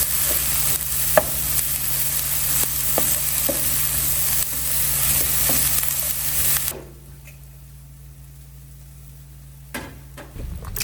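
Kale cooks in hot bacon grease in a pan, giving a steady loud sizzle with occasional stirring clicks and scrapes, then the frying drops to a quieter hiss near the end before a few more stirring knocks.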